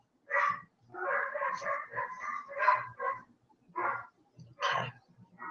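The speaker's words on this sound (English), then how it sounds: "I don't know if you can hear my dogs barking," Several dogs bark in short, irregular bursts, some yips mixed in, fairly close but not very loud, with brief quiet gaps between volleys.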